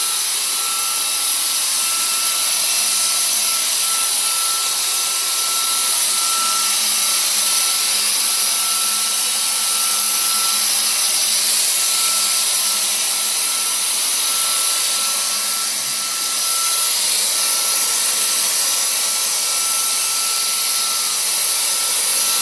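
A GTM SG18/700BL cordless paint sprayer runs steadily, a loud continuous motor whine and airy spray hiss that stays even for the whole stretch with no talking.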